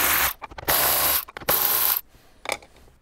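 A ratchet works 10 mm bolts out of the radio mount in a Toyota 4Runner, with three long loud stretches of rapid clicking separated by brief pauses and a short final burst, close up and without talking.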